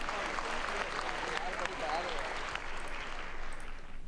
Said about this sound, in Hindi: आपकी भरपूर तालियां लेडीज एंड जेंटलमैन।